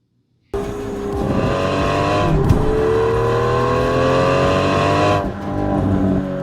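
An Aston Martin Valour sports car's engine cuts in abruptly and holds a loud, sustained, close roar, with a brief flare partway through before easing slightly near the end.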